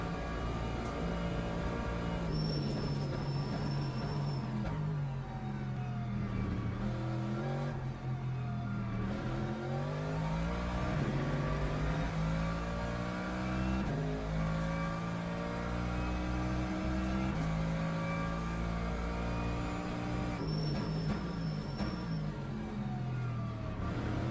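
A GT3 race car engine in the Le Mans Ultimate racing game at Spa, revving steadily with rising and falling pitch sweeps through gear shifts, loud and continuous throughout.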